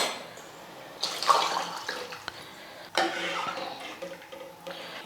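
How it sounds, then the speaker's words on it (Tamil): Water is poured into a pot of cooking sambar, giving a splashing, gurgling pour in two bursts of a second or two each, close and moderately loud, with no voices. "தேவையான அளவுக்கு தண்ணி சேர்த்துக்கிறேன்"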